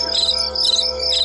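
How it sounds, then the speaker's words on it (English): Crickets chirping at night over a backyard, a dense, steady high trill running without break, fairly loud and close. "You can hear the crickets and stuff, the cars going by."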